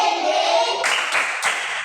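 Young schoolchildren chanting a cheer in unison in a classroom, then three crisp group clap bursts spaced evenly in rhythm toward the end.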